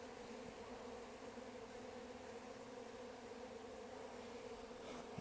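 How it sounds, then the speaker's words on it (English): A steady, dense buzzing of many bees and hornets at a bucket feeder hums continuously at low level, a constant drone with no voices. "I think the hornets are here to eat the bees"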